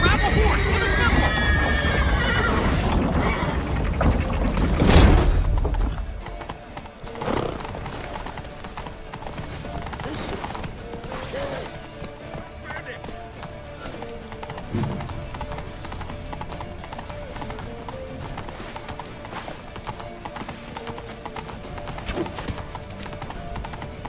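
Horse hooves clatter at a gallop in The Witcher 3: Wild Hunt, loud at first with shouting voices, then the rider's horse falls back to faint scattered thuds and ambient game noise for the rest.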